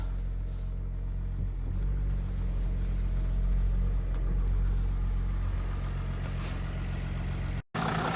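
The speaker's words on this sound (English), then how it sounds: "Pump's still making a bit of noise." Jeep WK CRD idling while its power steering pump makes noise, giving a steady, close mechanical hum and drone with a faint whine riding on the engine sound, no talking.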